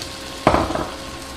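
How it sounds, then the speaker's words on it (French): Butter and flour hit a hot sauté pan for a roux, giving a short burst of sizzling that flares up sharply and then fades within a moment, close and fairly loud. "Je vais y ajouter du beurre que je vais faire fondre."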